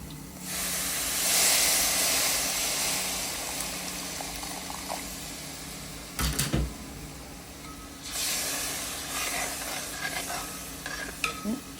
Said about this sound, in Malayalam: നമ്മളിതിലേക്ക് കുറച്ച് ചൂടുവെള്ളം ഒഴിക്കാം കേട്ടോ.